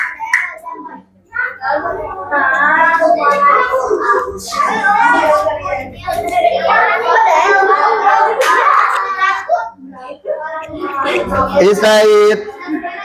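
A classroom of students claps for a small group that has just presented, the clapping mixed with lively children's voices and chatter throughout.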